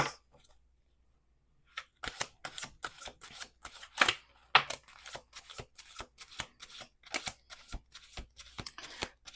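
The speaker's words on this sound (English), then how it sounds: "We're going to do 2 more shuffles." Cards being shuffled close up: a quick run of crisp riffling snaps, repeated in bursts after a short silence, no talking.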